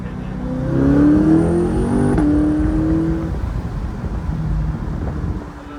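A C8 Corvette's engine rises loudly as it downshifts and accelerates, a harmonic rev climbing and holding for a few seconds close to the microphone, with wind buffeting underneath as it settles back to a steady drone.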